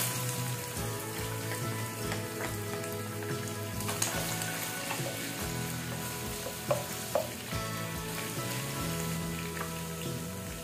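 Garlic frying in hot oil left over from cooking chicken liver, a steady loud sizzle and crackle with occasional stirring clicks and pops, close up and continuous with no talk.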